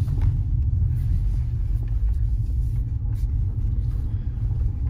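A Peugeot 508 PSE hybrid cruising gently, heard from inside the cabin as a steady low rumble of road and drivetrain noise that stays even throughout, with no talk.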